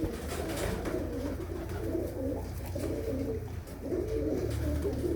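Low, throaty coos of breeder pigeons repeat steadily throughout, several birds murmuring close by with a soft rolling rhythm and no talking.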